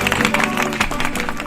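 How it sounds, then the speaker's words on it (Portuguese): Applause from a small group in a community radio studio, a short burst of clapping dense and steady for under two seconds, fairly close, with a faint voice mixed in. "para que a gente mande aqueles aplausos"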